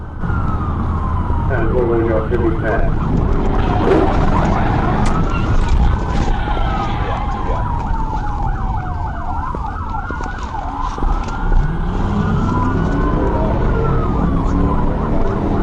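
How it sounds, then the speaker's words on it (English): An Arkansas State Police car siren wails and sweeps up and down continuously, loud and close, over steady traffic and engine rumble during a high-speed chase. "he activated his emergency lights and siren"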